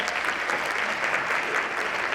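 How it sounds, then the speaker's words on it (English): Applause from a luncheon audience at a Fort Worth women's awards event, a steady dense wash of many hands clapping together throughout, fairly close and sustained at an even level. "Another round of applause for our chair of the board."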